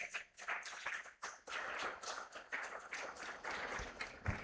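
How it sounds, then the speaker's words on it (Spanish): A church congregation claps for the King in a fairly quiet, uneven burst of applause, scattered hand claps rising and falling over a few seconds. "Dale un fuerte aplauso al Rey."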